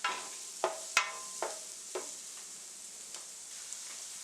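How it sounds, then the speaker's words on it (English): Onion frying in a pan for shrimp fried rice gives a soft, steady sizzle, broken by several sharp knocks of a utensil stirring against the pan that come less often and grow fainter over time. "cook out the onion for about 2 minutes maximum"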